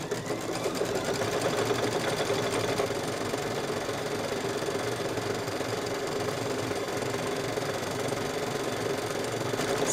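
A sewing machine runs steadily and continuously at close range, stitching purple thread in a stipple quilting pattern around an appliqué fused to the fabric, with a fast, even mechanical patter and no pauses.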